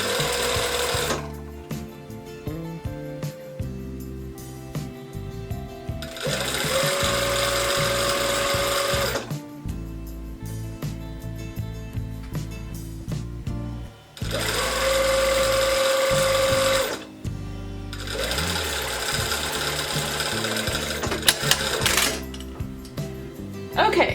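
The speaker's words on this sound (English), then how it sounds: "So now we're gonna sew this at 5/8 of the seam allowance." A sewing machine stitches a blouse seam in long continuous runs, its fast mechanical whir starting and stopping several times, close and loud, with pauses of handling noise between passes.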